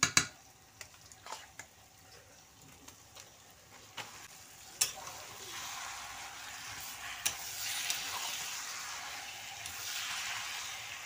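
Marinated chicken drops into oily masala spiced with turmeric in a pan, and a steady sizzle swells and holds. Occasional sharp clinks of a stirring spoon sound through it, with no talking.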